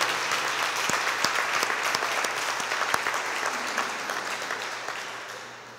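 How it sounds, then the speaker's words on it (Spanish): A church congregation applauds during a Spanish-language sermon: dense, sustained clapping with sharp individual claps standing out, full at first and slowly tapering toward the end. "Dale un fuerte aplauso al Señor si crees esto."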